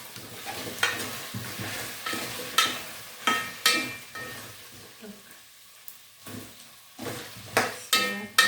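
Potatoes sizzle in a frying pan while a utensil scrapes and stirs them in repeated short strokes, fairly quiet and close.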